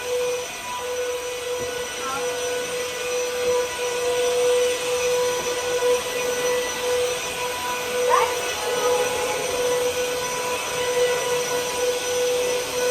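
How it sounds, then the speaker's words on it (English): A vacuum cleaner runs steadily with a loud, constant whine and roar, close by, with a brief pitch shift partway through. "now it's vacuum time"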